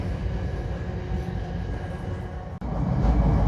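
Steady loud rumble and rattle inside The Canadian passenger train while moving through the passage between cars, with a brief dropout near the end before the low roar swells louder.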